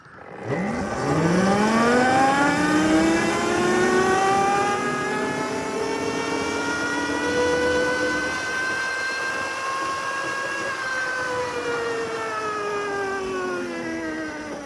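A Cemoto D02 budget electric motorcycle launches and accelerates hard, its motor whine rising steeply in pitch and then holding a loud, steady high tone as speed builds, heard up close over faint wind rush.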